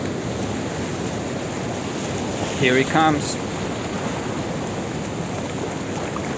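Ocean waves wash steadily onto a shore in a continuous broadband rush, with a voice briefly speaking over the surf partway through.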